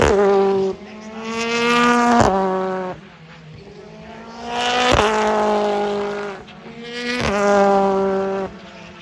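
BMW touring race car at Brands Hatch qualifying, engine note rising and falling as it passes three times in turn, loud whining harmonics climbing with revs and cutting sharply at each gear change, no voices.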